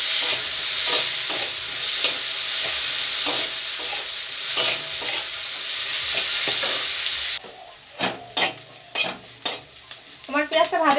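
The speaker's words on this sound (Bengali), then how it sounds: "এখন খুব ভালো করে আমি ভেজে নেব পেঁয়াজটাকে।" Onions fry in a pan with a loud, constant sizzle, stirred now and then with scraping strokes; the sizzle drops sharply near the end, leaving quieter clinks and brief sounds.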